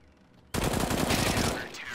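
A sudden loud burst of rapid automatic gunfire in Counter-Strike (CS:GO) starts abruptly and keeps going, dense and continuous, with a game-like crispness.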